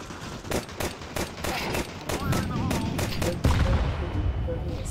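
Rapid bursts of gunfire from Counter-Strike 2, a string of sharp shots repeating through the whole stretch, close and loud, with voices talking now and then alongside.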